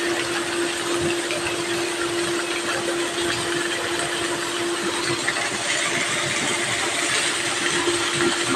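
A blower runs steadily at a Filipino work site, giving a constant loud whooshing roar with a fixed steady hum beneath it, unbroken for the whole stretch.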